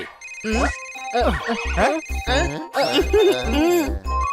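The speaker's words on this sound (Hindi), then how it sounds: "किटी का फोन आया है।" A melodic phone ringtone in an animated cartoon plays in repeated musical phrases, loud and close, with a steady beat underneath.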